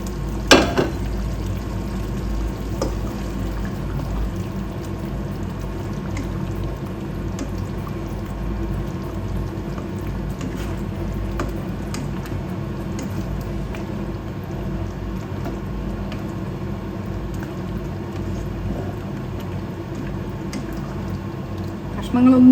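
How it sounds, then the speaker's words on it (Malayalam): A curry mixture simmers in a pan before paneer goes in, giving a steady low bubbling and gentle liquid churn that runs evenly throughout at moderate level, with a faint voice now and then. "ഇനി ഇതെല്ലാം കൂടെ ഒന്ന് തിളക്കട്ടെ."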